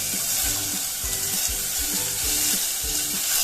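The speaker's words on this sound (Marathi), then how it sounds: "ह्या भाज्या पण असं परतून घेऊया आधी" Vegetables for pav bhaji (cauliflower, peas, beetroot and finely chopped potatoes) sautéing in a pan, with a steady loud sizzle and a few soft stirring knocks throughout, no talk.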